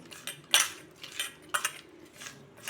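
Morola fish being mixed with salt and turmeric in a metal dish, giving a few separate clinks and scrapes at uneven intervals, close and fairly clear against a quiet background.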